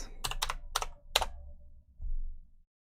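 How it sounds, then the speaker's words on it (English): Four quick, crisp key strikes from a typewriter in the game Bowblax Meltdown Mania, close and evenly spaced, then a softer thump before silence. "A fucking typewriter."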